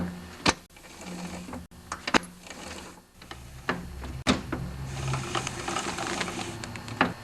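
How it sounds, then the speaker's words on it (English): Rubber friction wheel on a John Deere 5/20 snowblower, wiped with fresh gas, turning as the machine's wheels are rotated by hand: close mechanical clicks, rubbing and ratcheting knocks in an irregular rhythm, no talking. "turn the snowblower wheels, and this will make the friction wheel turn"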